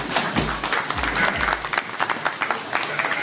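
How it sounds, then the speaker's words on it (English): Applause from an audience at a sheep shearing demonstration, a dense patter of many hands clapping at moderate volume for a few seconds, with some voices mixed in. "Sean, Josh, a round of applause, please, ladies and gentlemen."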